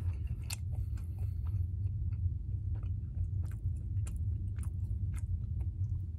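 Jack in the Box French toast sticks being chewed close to the mic, with soft wet, crunchy bites repeating steadily over a low background hum, and no talking.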